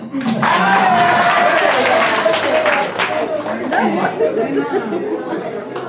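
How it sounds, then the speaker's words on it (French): An audience at a school debate competition claps and cheers for a team, a loud burst of applause mixed with crowd chatter and laughter that gradually thins out. "Applaudissez encore."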